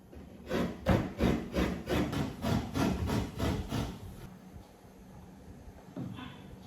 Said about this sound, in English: I will grate it now.